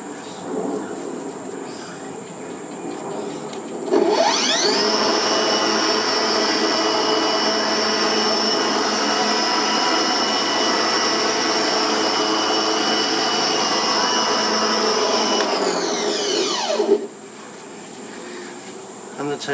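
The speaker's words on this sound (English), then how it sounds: "let's do a test mow in the middle position of three" An Ozito cordless lawn mower set to the middle of three height positions, mowing grass with a steady high electric whine and blade hum that runs loud and continuous for about thirteen seconds, then cuts off.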